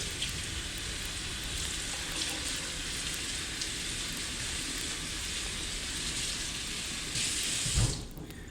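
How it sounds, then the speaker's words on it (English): Tap water runs steadily into a kitchen sink while lettuce leaves are rinsed for a Caesar salad, a constant close hiss that swells briefly near the end. "just rinse it off in the sink real good"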